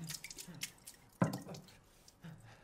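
Healing water drips in Resident Evil Village, a few faint, sparse drops with one sharper splash in the middle, quiet and isolated with no voices.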